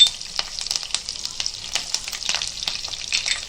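Curry leaves and chilies crackling in hot oil for a Konkani potato fry, a bright, busy sizzle with quick popping spatters throughout, close and steady, with no voices.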